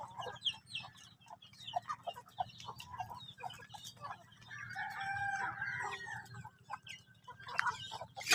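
Chickens clucking in short bursts with a rooster crowing in the middle, over a low steady hum; birds sound close, no talking.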